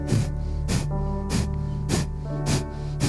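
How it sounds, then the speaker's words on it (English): Breath of fire during a yoga flow, rapid forceful nasal exhalations joined with a clap, a steady rhythm of about six sharp breathy bursts roughly half a second apart over a low backing hum. "If you've been practicing little breath of fire, join it with the clap"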